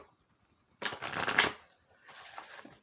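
Two quick bursts of card shuffling, a longer riffle followed by a shorter, softer one, close up in a quiet room.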